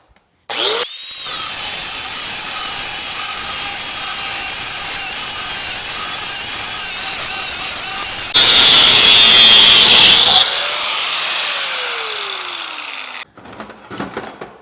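A power saw cuts along the weld line of a beat-up scrap generator's metal casing, a loud, continuous grinding rasp for over ten seconds that shifts pitch partway through before stopping, followed by clattering handling.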